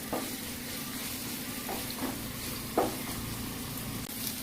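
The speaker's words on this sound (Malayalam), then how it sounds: "ആവശ്യത്തിനുള്ള കറിവേപ്പിലയും വെളുത്തുള്ളിയും ഇട്ട് ഒന്ന് നന്നായി ഫ്രൈ ചെയ്തെടുക്കാം." Green chillies, garlic and curry leaves fry in hot oil with a steady low sizzle and hiss, a few soft stirring scrapes and one sharper tap against the pan, close and fairly quiet, no voices.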